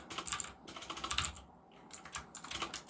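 Rapid clattering keystrokes on a computer keyboard come in bursts with a short pause in the middle, close and fairly quiet, with no talking.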